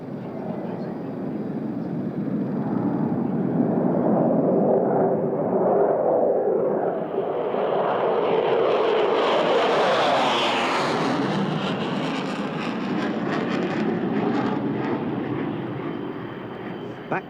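A B-2 Spirit stealth bomber landing at the Royal International Air Tattoo at RAF Fairford, a loud sustained engine roar that swells and sweeps in pitch as it passes, heard alone with no talking.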